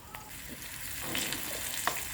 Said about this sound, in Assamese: পিঁয়াজখিনি ৰঙা হৈ গৈছে তো ইয়াতে মই এতিয়া নহৰুখিনি দিম।